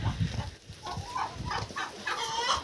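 Turkeys and hens clucking and chattering on a Ukrainian poultry farm, a busy mix of short calls and warbling notes that rise and fall close by without pause.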